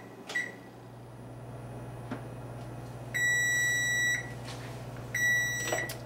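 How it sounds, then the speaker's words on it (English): A kitchen timer beeps in two sustained electronic bursts, each about a second long, while white sandwich bread bakes in the oven, heard over a steady low appliance hum with faint clicks in between. "the timer has gone off"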